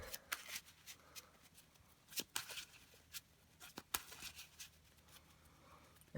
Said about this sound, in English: I'm going to show you guys just the shuffle procedure on this.